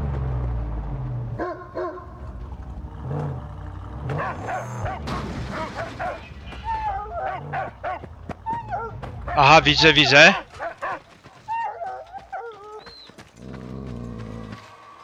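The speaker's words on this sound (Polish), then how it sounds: "Ale ma też szczeknięcia mocne." A dog barks in the Mad Max video game, a few sharp barks among game effects and someone talking over much of it, with a louder burst of yelps near the middle.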